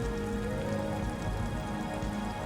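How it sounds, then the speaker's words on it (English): Steady rain pattering on surfaces in the video game Disco Elysium, a dense continuous wash with no breaks or talking. "Somehow, the raindrops seem to fall more slowly from this angle."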